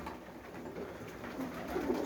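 Budapest pigeons cooing close by, a few soft low coos over a faint background hum.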